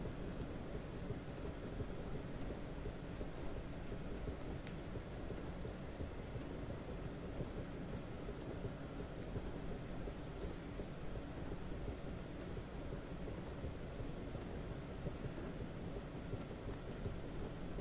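Rail rumble from a passing train in Train Simulator 2017 on the North London Line, with a steady, dense low drone and clatter running unbroken at even loudness throughout.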